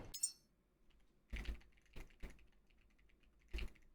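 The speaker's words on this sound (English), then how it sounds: "Just typing that down as well." Keys clacking on a computer keyboard while a player jots down notes in The Last Caretaker, a few isolated clicky strokes and short bursts spread across a quiet background.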